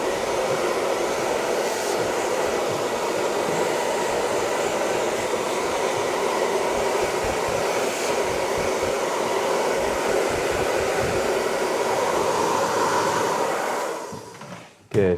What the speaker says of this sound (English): if you're going to dry it with a heater dryer.